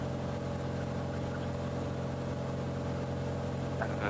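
A small aircraft engine runs at full power and full mixture during a climb, a steady, constant drone heard from inside the cabin with no talk.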